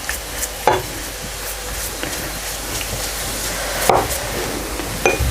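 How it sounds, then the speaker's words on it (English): Missi roti cooking in a hot pan with butter spread on top, a steady soft sizzle broken by a few sharp scraping taps of a utensil against the pan, no talking. "this has been cooking away now, and I'm just about to apply the butter on top"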